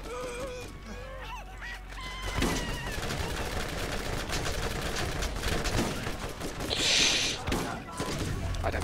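Rapid gunfire from the shooter video game Borderlands, with dense automatic bursts that continue almost without a break over a busy game soundscape, loud and up front.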